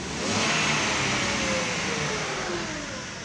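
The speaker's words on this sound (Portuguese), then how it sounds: "Barulheira de corrente, barulheira de motor." A Renault Sandero three-cylinder engine with a noisy timing chain runs loud and close, its rough mechanical drone swelling briefly then holding steady and slightly easing off.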